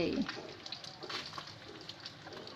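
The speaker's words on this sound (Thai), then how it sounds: "ย่าก็ทอด จนกว่าปลาจะได้ที่นะคะ ให้กรอบๆไปเลย" Whole pomfret deep-frying in hot oil until crisp, giving a steady, close crackling sizzle with bubbling hiss throughout, and a brief faint voice at the very start.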